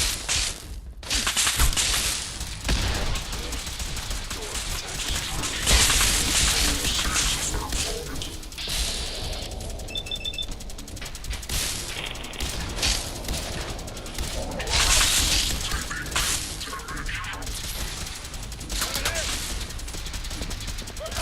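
Sustained gunfire from a firefight in Fallout 4, with dense volleys of loud shots and cracks almost continuously for twenty seconds, along with scattered game voices.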